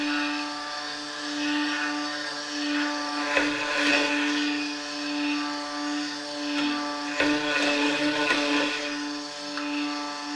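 Steady motorized whirring of a stick blender working through soap batter, a continuous buzzing drone with small fluctuations and a few brief clunks as the blade shifts in the container.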